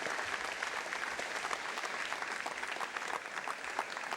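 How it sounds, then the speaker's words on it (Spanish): A church congregation applauds at a Catholic sermon, continuous clapping that stays dense and even throughout, moderately loud with no talking over it. "Dale ese fuerte aplauso al Señor y Salvador Jesucristo"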